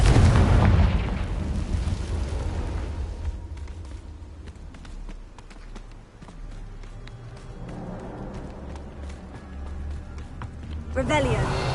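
Confringo fire spells burst in Hogwarts Legacy. A loud blast opens, then quieter crackling and clattering follow, and a second burst comes near the end.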